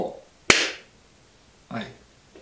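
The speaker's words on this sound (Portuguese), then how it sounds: "Palmas para o sincronismo!" A single sharp hand clap made to sync sound with picture, close and loud with a quick fading tail, followed a moment later by a brief spoken sound.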